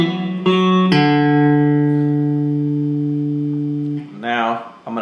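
Electric guitar playing a rhythm riff slowly, a few struck chords ringing out with sustained harmonics and a brief bass-note change near the end, clear and close.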